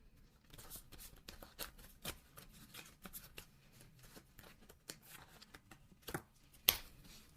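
Tarot cards shuffled and dropped during a reading, a run of quick papery riffles and soft slaps with a few sharper card hits near the end, close and fairly quiet.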